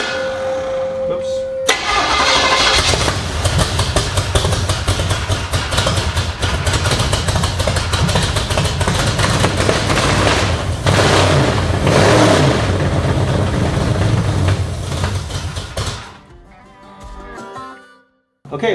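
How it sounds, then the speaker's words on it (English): A 1972 Chevrolet C10 barn-find truck, sitting for 18 years, cranks and fires up, its engine roaring loudly and revving unevenly for about fifteen seconds before dropping off and cutting out, with a voice speaking briefly at the start. "Ignition, start."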